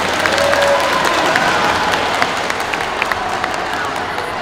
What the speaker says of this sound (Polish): Jeszcze raz poprosimy o wielkie brawa dla naszych uczestników.